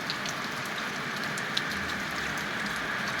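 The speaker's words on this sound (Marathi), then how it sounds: "आता पाऊस चालू असल्यामुळं" Steady rain falls outdoors in a village, a dense, even hiss of drops at moderate volume with one faint tap partway through and no voices.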